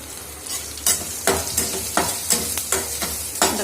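Chopped small shallots sizzle in a hot pan for banana flower kootu, with a steady frying hiss broken by regular scraping strokes of a spoon stirring, close by and without voices.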